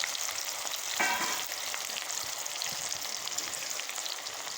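Chopped onions fry in oil left over from frying potatoes, making a loud, dense, steady crackling sizzle close by, with a brief sharper burst of spitting early on.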